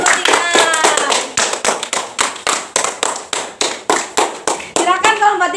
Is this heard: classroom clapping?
yes